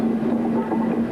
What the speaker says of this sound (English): The train, now full, has backed down and the locomotive is seen running around its train.